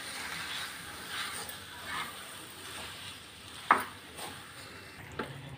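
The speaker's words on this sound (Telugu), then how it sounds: "ఆలు వేసుకున్న తర్వాత ఆలూలో ఉన్న తడి పోయే వరకు ఒక 2 నిమిషస్ ఫ్రై చేసుకోవాలి" Potatoes frying in a pan as stuffing for aloo paratha give off a faint, soft sizzle, with gentle stirring scrapes and one sharp utensil clink near the middle, and no talking.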